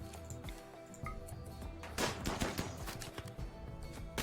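Colonists in Rimworld shooting at an enemy siege mortar: a steady run of small, sharp game gunshots and clicking impacts at moderate volume, with a denser burst midway.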